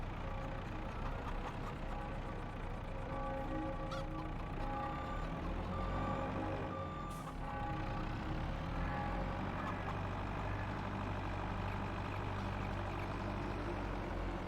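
A farm vehicle driven and turning during spring field preparations, its mid-pitched engine droning steadily and close throughout, with repeated beeping tones over it and no talk.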